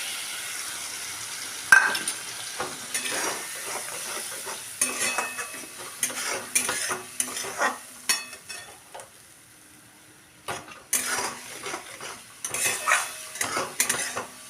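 Spice paste of Kashmiri chilli powder and water frying in a kadai, close sizzling broken by irregular clinks and scrapes of a spoon stirring against the metal, no talk.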